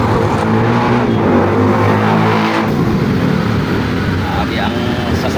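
Roadside traffic in Kabanatuan, with vehicles with loud exhausts passing close by as a continuous, heavy engine roar and rumble, under a voice talking throughout.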